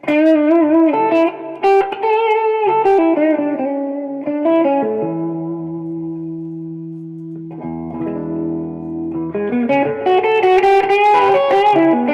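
Electric guitar through an overdrive pedal into a Vox MV50 amp, played alone as sustained, mildly driven chords and single notes that ring with reverb, then picked up into busier phrases at a steady, fairly loud level.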